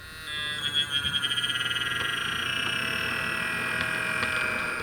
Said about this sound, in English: you will notice the buzzing sound changed because the length of the pulse changed